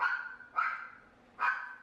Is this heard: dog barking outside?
yes